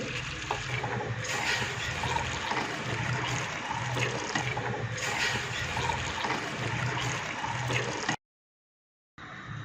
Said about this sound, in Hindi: जब चाशनी पकना शुरू हो जाए, जो पानी स्ट्रेन किया था, थोड़ा थोड़ा करके वो ऐड करें।